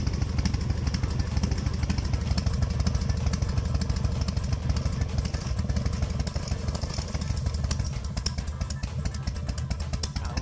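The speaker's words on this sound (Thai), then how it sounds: "ท่อสแตนเลสมันจะดังป๊อก แป๊ก ป๊อกป๊ก" A motorcycle fitted with a loud stainless steel exhaust, running steadily with a dense, low throbbing rumble that stays up close and constant throughout, with no talking.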